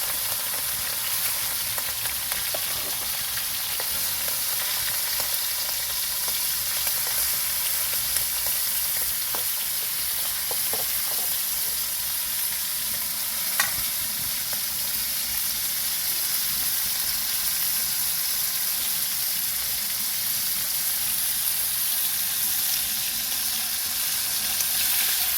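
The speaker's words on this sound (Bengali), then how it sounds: "তেলটা গরম হয়ে গেছে, দিয়ে দেবো মাছগুলো। অল্প অল্প করে ভেজে নেব।" Fish pieces frying in hot oil make a steady, dense sizzle that runs unbroken and even in level throughout, with only a few faint clinks surfacing briefly near the middle.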